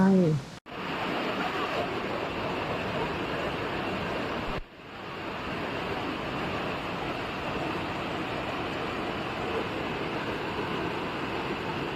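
Sam Lan Ai waterfall in Thailand roars as a steady, dense rush of falling water, loud and close, briefly cut off twice by abrupt dips before resuming with unchanged force.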